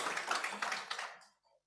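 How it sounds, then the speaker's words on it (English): An audience at a regional customs awareness session applauds, a short burst of clapping from many hands that fades out after about a second. "Let us please give a round of applause"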